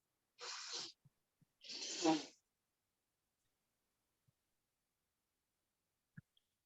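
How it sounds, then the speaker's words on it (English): Someone blows their nose in two short, breathy bursts close by, the second longer and heavier, followed by a few faint clicks and rustles in an otherwise quiet room. "I'm going to take a little break just to blow my nose"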